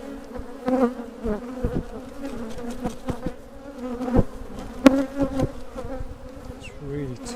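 Decade-old honey bee colony buzzing loudly and close during a bee removal, a dense swarming drone with individual bees passing near, plus scattered knocks and handling sounds.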